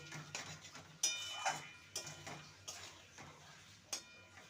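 A spoon scrapes and clinks against a pan while pointed gourd curry is stirred with garam masala, giving a series of sharp metallic taps and scrapes at an uneven rhythm, close and fairly quiet.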